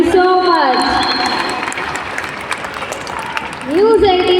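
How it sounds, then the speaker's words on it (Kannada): An audience gives a standing ovation for a singer, a sustained wash of applause and crowd noise running under talk and music. "ಎದ್ದು ನಿಂತು ಚಪ್ಪಾಳೆ ಹಾಕಿ ನಮ್ಮ ಸರ್ ಅವ್ರಿಗೆ"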